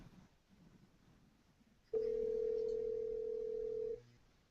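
A steady electronic telephone tone sounds for about two seconds after a quiet stretch, loud and continuous before cutting off.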